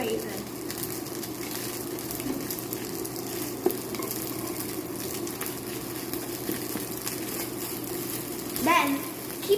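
Chopped Spam fries for breakfast while being stirred and broken apart in a pan, giving a dense, steady sizzle with occasional scraping and clinks, and a voice faintly present in the background.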